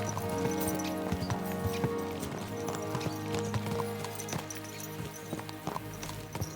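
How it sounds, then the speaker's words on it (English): Horses trot steadily in the medieval video game Kingdom Come Deliverance II, a close, rhythmic clip-clop of hooves with occasional snorts, heard alone without voices. "Let's really spur these horses on, eh?"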